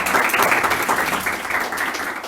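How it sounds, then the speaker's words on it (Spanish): Audience applause welcoming guests to a talk on police abuse, a steady, fairly loud crowd clapping that continues evenly throughout with no talk over it. "Los recibimos con un fuerte aplauso."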